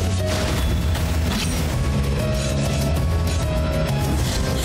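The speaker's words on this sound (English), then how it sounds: "the explosion that thing causes is huge" A huge explosion in the video game Blasphemous: a loud sustained boom and crashing rumble that fills the whole stretch without any speech.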